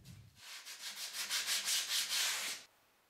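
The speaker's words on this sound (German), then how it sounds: "Das Werkstück wird wieder ausgespannt und die Kanten der Nut noch mit Schleifpapier gebrochen." Sandpaper rubbed by hand along the edges of a routed groove in a wooden workpiece: about ten quick, even back-and-forth strokes in a steady rhythm, close and clear, then stopping.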